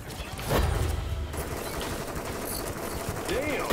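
Gunfire from a squad PvP firefight in The Cycle, rapid bursts of shots ringing out close and loud over a busy, noisy game mix, with voices talking throughout.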